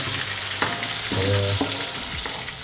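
Gravy poured into hot oil in a pan sizzles steadily while being stirred for spicy Bhavnagar-style pav bateta, with a continuous frying hiss and a few short scraping stirs, no talking.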